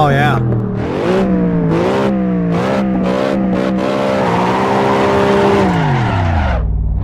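Cadillac CTS-V mod engine in the Assetto Corsa racing game, loud and close, revving through repeated gear shifts with rising and dropping pitch, then a long deceleration and a low idle at the end.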